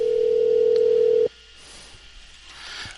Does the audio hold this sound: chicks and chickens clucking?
no